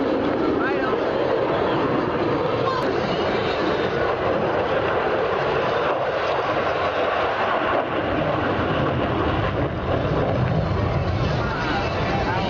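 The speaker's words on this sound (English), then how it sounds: "That is a loud plane." A loud, steady roar of an airplane passing overhead at the Atlantic City Airshow, filling the air continuously, with voices faintly beneath it.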